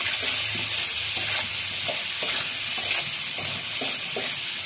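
Fried potatoes being stir-fried with cumin paste and salt for a bhetki fish curry, with continuous loud sizzling and a regular rhythm of spatula scrapes and knocks against the pan.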